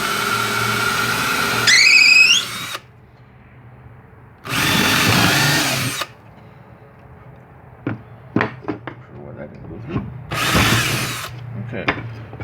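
A power drill bores screw starting holes in wood in short bursts, whining as it spins up with the motor pitch rising, separated by quiet stretches with clicks and knocks of handling the workpiece.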